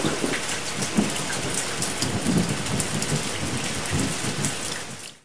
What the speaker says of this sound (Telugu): ఉరుములు మెరుపులతో కూడిన వర్షాలు పడుతున్నాయి.